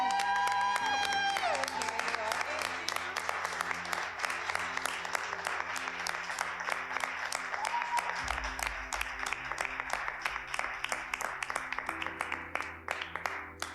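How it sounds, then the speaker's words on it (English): One person claps loudly and rapidly at a poetry event, sharp close claps in a steady quick rhythm running throughout, with a wider crowd applauding early on and voices talking underneath. "Somebody behind me is clapping mad loud"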